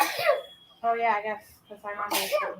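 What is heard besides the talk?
person sneezing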